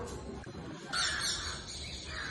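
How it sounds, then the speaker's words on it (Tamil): Crows and sparrows call around a temple in Tiruvannamalai, with faint, fairly distant caws and chirps rising out of a hissy outdoor background. "இங்க காக்கா சத்தம், குருவி சத்தம் தான் நல்லா கேட்கும்."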